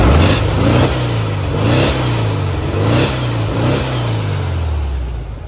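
A 1979 VW Brasilia's engine is blipped several times in a row, each rev rising and falling in a steady rhythm over a rough, loud idle, recorded close to the car with no one speaking.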